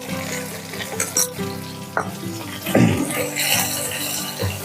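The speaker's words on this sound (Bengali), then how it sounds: "ভালো করে মিশিয়ে নেব" Spice paste for an amudi fish and bottle gourd curry frying and being mixed in a pan, with a continuous sizzle, a wet bubbling surge midway and light scraping strokes.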